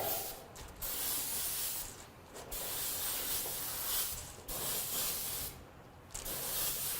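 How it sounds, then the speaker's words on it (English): Bursts of spray hiss from a paint gun applying candy pearl paint to a drag racing boat, several passes of a few seconds each with short pauses between, steady and close. "just continue on randomly spraying this effect as we go to the back"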